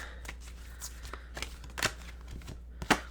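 Oracle cards being shuffled by hand, a series of close, crisp papery riffles and flicks at an irregular rhythm over a low steady hum.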